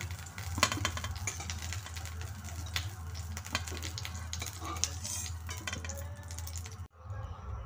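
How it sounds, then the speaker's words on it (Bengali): Cauliflower frying in mustard oil in a wok, a steady close sizzle with scattered clicks and scraping taps of a spatula, continuous and moderately loud without talk, cutting off sharply near the end. "ফুলকপিগুলোকে একটু সোনালি করে ভেজে নেব।"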